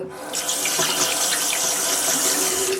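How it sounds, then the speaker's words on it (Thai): Hands washed under a running tap after applying a sticky cream, a steady close rush of water splashing into a sink with slight shifts as the hands move through the stream, no talking. "ล้างมือก่อน"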